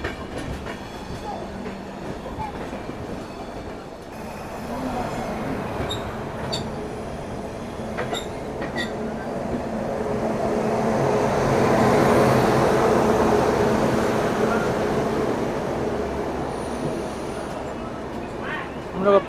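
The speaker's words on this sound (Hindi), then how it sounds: "पूरी ट्रेन खाली चल रही है" Bhubaneswar Express passenger train running between Delhi and Kanpur, a steady rumbling roar of wheels and carriage that swells midway, with faint clicks and occasional voices in the background.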